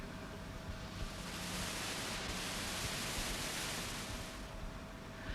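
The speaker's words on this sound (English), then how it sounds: "A more complex sound still is white noise." Steady white noise hisses evenly across a broad band for several seconds, soft and unchanging with no other sounds.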